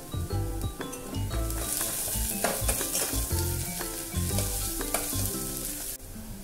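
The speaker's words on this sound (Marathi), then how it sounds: "मग मस्तवर परतून घ्यायचा आहे आपल्याला छान जरा" Onions with asafoetida sautéing in a pan for Maharashtrian besan pithla, a loud, close sizzle broken by repeated spatula scrapes and stirring knocks against the pan, with no talking.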